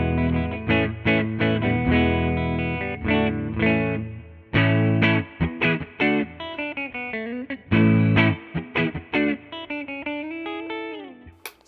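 A Fender Jazzmaster electric guitar with a 4-way mod played on the middle pickup position, loud effected chords and single notes in rhythmic bursts with brief pauses, ending on a bent note.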